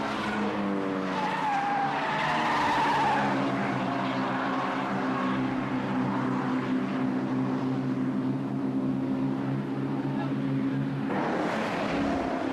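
MG race cars on a circuit during a 1998 MGCC BCV8 championship race, engines droning loudly as they pass close by, the pitch sweeping as they go by, with another car rising at the end.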